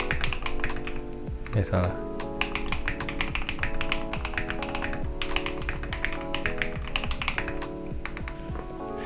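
Rapid, steady keystrokes from a modded Rexus Daiva mechanical keyboard with KTT Cabbage Tofu switches, clacking loudly and close throughout, layered over music, with a brief voice speaking partway in.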